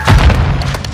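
A Semtex grenade detonates with a loud, deep boom and a rumbling tail in Call of Duty: Modern Warfare during a team deathmatch match, close and heavy, filling the short moment.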